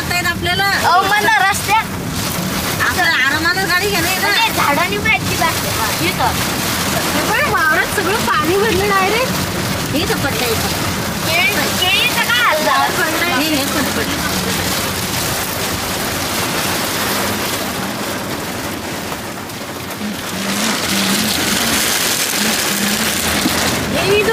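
Cyclone Remal lashing the coast with heavy rain and gusting wind, a dense roar of rain and buffeting air that stays loud throughout, with voices talking over it.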